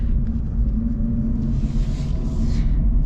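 A 2024 Toyota 86 Trueno Edition in track mode, its engine heard from inside the car as a deep, steady drone with a strong low rumble that holds constant, with slight rises in pitch, and no talking.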